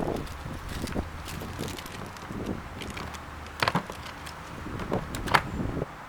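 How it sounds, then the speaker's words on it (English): Outdoor wind buffeting a microphone beside a car during a driver's side headlight restoration on an Acura TSX, a steady low rumble and rustle with a few brief louder gusts and no voices. "the quality, I'm not sure if that's going to be good because of the wind"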